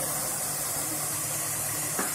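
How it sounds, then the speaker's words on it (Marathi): Takala leaves and chana dal being sautéed in a pan, giving off a steady, even sizzling hiss close by that stays constant throughout, with no talking. "आता ही पानं टाकून मी छान परतणार आहे."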